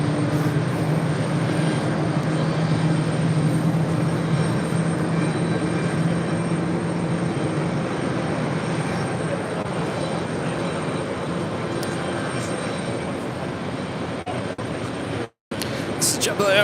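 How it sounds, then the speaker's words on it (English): A JetBlue Embraer E190AR jet airliner at JFK produces a loud, sustained engine roar and rumble that holds steady and fades slightly near the end, with a voice talking over it. "JetBlue Airways Flight 2487 heading to Reagan National in the Embraer E190AR."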